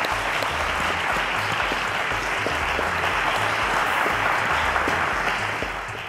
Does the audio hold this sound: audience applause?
yes